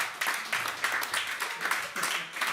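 A comedy-club crowd claps during a stand-up show in Sweden: quiet, dense, steady applause from a small audience that carries on without a break.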